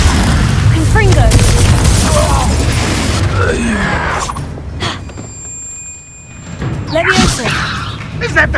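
A Confringo blasting spell erupts in loud, booming explosions with crashing debris and whooshes, close and forceful, dying down briefly before another burst; voices are heard amid the blasts.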